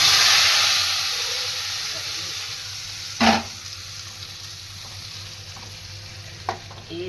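A steady frying hiss from a pan of Punjabi kadhi tempering with asafoetida and Kashmiri red chili, broken by one sharp crackling burst of stirring midway and a softer one near the end.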